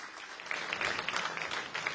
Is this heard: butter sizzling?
no